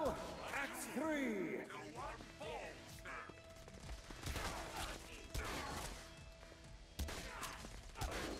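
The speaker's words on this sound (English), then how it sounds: "this submachine gun's pretty badass." Bursts of rapid submachine gun fire from the Brimstone Belcher Rapid Fire SMG in the video game Saints Row: Gat Out of Hell, mixed with game effects and heard under people talking throughout.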